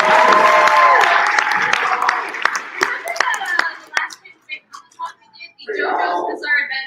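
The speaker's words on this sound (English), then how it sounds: "Give a round of applause." Audience applause for a cosplayer at the HarleCon cosplay and crafts convention, a loud burst of clapping that thins into scattered claps, then a voice speaks near the end.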